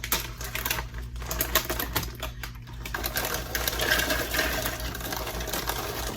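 A small grinder buzzes steadily as it grinds up crunchy pork rinds, a continuous whirring and rattling drone lasting throughout with no talking.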